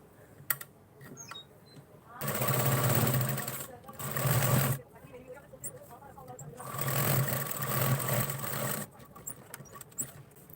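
A sewing machine stitching a blouse sleeve lining, two long steady runs of fast mechanical whirring separated by brief quiet handling sounds, heard close.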